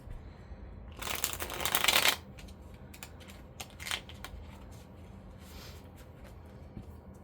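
Tarot cards are shuffled close up in a loud riffling burst, followed by softer flicks and rustles as cards are pulled and laid out, then quiet handling.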